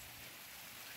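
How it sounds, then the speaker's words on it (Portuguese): Rain falls in a faint, continuous, even hiss of drops on surfaces, quiet and distant, with no voices over it. "já tá chovendo aqui para nós"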